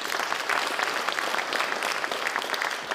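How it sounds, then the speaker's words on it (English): Conference audience at Nor-Fishing 2024 applauding a speaker as he comes up, dense continuous clapping filling the room at a steady level throughout. "Give him a big applause."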